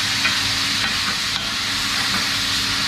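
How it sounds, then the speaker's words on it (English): Chorizo and beans sizzling and crackling steadily in a hot pan, a constant hiss with occasional light stirring sounds, close up and fairly loud. "A bit of a sizzle going on there."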